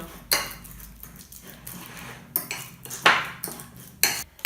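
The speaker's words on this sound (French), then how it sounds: "Et je vais l'écraser bien jusqu'à qu'elle soit, on va dire, liquide." Fruit being mashed until liquid with a utensil against a dish, heard as a series of irregular close scraping and tapping clinks separated by short quiet gaps.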